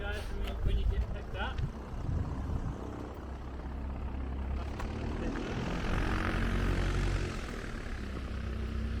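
A small propeller sightseeing plane at Milford Sound drones steadily at close range, its engine and prop roar filling the air, with people talking over the noise.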